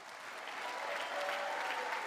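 Applause fills a large chamber during a televised address, a dense, steady roar of many hands clapping that swells slightly and holds loud throughout.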